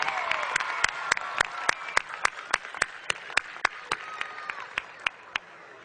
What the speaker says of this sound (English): Give the band another round of applause.